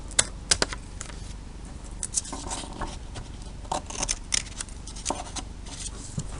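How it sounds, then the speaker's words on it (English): Scissors snipping around a hand-drawn paper logo, a scatter of sharp close cuts and crisp paper rustles at an uneven pace, with no talking. "we're just going to trim out the logo"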